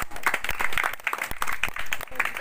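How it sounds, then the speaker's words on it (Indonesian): People at an Indonesian fire-safety demonstration clap after a fire is put out, a loose, uneven burst of individual claps close by, with voices mixed in. "Tepuk tangan."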